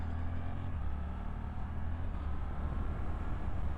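A 2023 Suzuki GSX-8S motorcycle engine slowing in second gear, a low steady rumble at moderate level that drops in pitch as it decelerates, heard alone.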